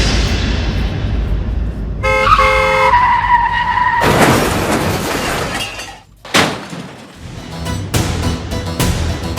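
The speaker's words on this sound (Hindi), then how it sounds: "आपने मेरी गाड़ी ठोक दी।" Car tires skid with a rising squeal, then a loud crash with shattering glass and scattered debris as one car hits another, followed by further clattering impacts, all without speech.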